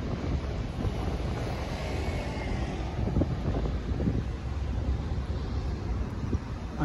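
Strong wind blowing outdoors on a hot, sunny day, a steady loud rushing roar with buffeting against the microphone that holds throughout, with no voices.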